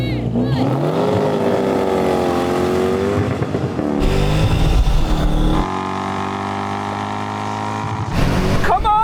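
Cars from the Fast & Furious films revving and accelerating hard down a drag strip, loud close engine roars rising in pitch with gear changes, one car after another, with voices talking over the noise.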